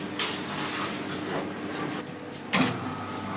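An electric mixer kneads bread dough in a cafe kitchen, giving a steady, fairly quiet mechanical whir with a sharp knock or clatter near the end.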